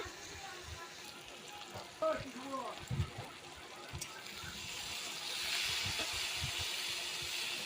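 Sona khorki fish tossed in a hot pan with spices, giving a steady close sizzle that swells louder near the end, with a few clatters of the pan being shaken and faint background noise.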